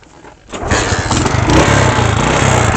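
A motorcycle engine cranks and catches after about half a second, then settles into a loud, close, rough rumble with rising revs, heard alone outdoors.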